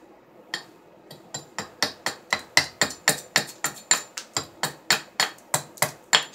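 A hand scraper shaves small pieces off a maple wood bowl against the grain in a steady series of about twenty sharp, close scraping strokes, evenly spaced and growing more regular, with no talk.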